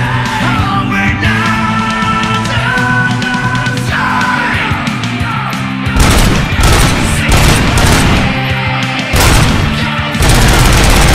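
Video game gunfire, loud and continuous over game music, rapid shots and booms intensifying in the second half, with occasional yells.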